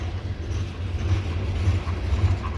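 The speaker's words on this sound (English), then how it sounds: "there's the end of the coal train" CSX coal train rolling past on the old B&O mainline in snow, a continuous heavy low rumble of wagons with steady mechanical rattle, close and loud.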